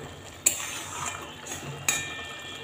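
A spoon stirs banana flower and prawn curry in a pan on a gas stove, giving two sharp metallic taps against the pan and a soft continuous scraping between them, close by, with no talking.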